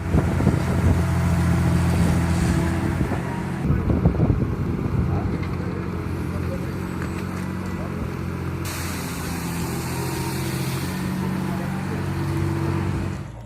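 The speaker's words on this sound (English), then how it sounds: "the Euramax 6500M struggled with the roots of the larch tree, the engine roaring loudly without stopping" A Euramax 6500M heavy machine's engine roars steadily and loudly throughout, a low continuous drone with wind buffeting, while working on larch tree roots; a voice talks over it for part of the time.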